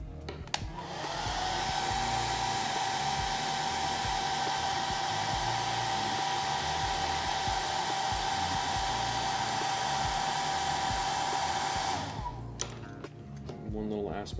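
A hair dryer blows on painted model armor, a loud steady whir that starts abruptly, runs for about eleven seconds at close range, then cuts off with a few faint handling sounds.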